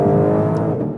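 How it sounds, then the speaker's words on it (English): A Ford Mustang Shelby GT500 engine roars loudly and close, holding a deep, strong rev that eases off slightly toward the end, with no voices. "This must be about the thirstiest as well as the loudest car I've ever driven."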